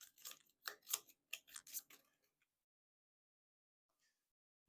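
Game cards from a King of Tokyo Power Up tabletop session riffled back into the deck in a quick burst of crisp, close papery flicks lasting about two seconds, then quiet.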